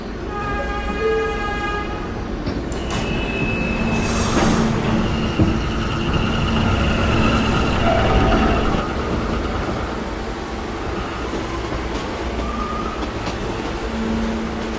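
A West Patauque-bound D subway train rolls along with a sustained rumbling roar, its wheels squealing in high drawn-out tones and a short horn-like tone partway through, with no talk.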